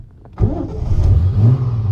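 A Triumph TR250 car engine is started. After a brief quiet moment the starter turns over and the engine catches, settling into a loud, rough, rumbling run close by.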